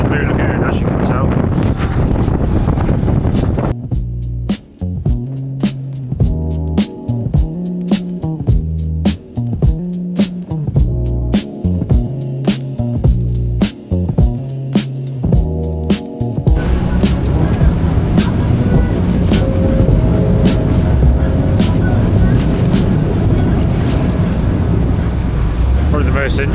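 A boat docks in rough sea at the Blue Lagoon. Gusting wind buffets the microphone over surging water, and music with a steady beat and some talking sit in the mix for part of the time.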